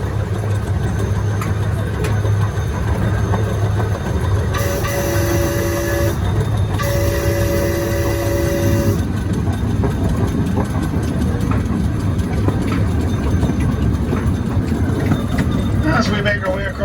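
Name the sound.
train crossing a trestle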